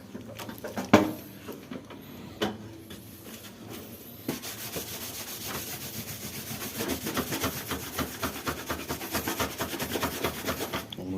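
A very dirty gas stove is scrubbed in a steady, forceful rasping rhythm that grows denser and louder after a few isolated knocks at the start, close and continuous.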